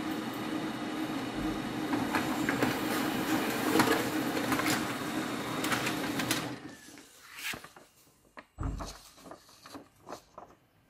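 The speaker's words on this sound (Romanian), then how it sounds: "Imprimăm raportul Supplies Information pentru a verifica revenirea contoarelor la" A Xerox B210 laser printer printing a supplies report, steady mechanical whirring and rolling for about six seconds, then stopping into a few separate clunks and clicks as the page finishes, close and clear.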